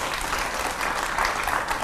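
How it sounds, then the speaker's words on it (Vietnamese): A studio audience at a Vietnamese television show claps steadily and warmly for nearly two seconds, a dense, even patter of many hands with no voices rising above it. "Hỏi cho một tràng pháo tay để khích lệ."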